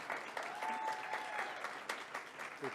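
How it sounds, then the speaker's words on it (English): Faint, distant applause from a small group, a steady patter of claps with a brief whistle-like tone running through it. "please give a round of applause for Chad Renning"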